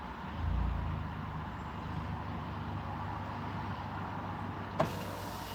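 A car reverses and pulls into a spot with a low, steady engine rumble heard from nearby, and a single short knock comes near the end.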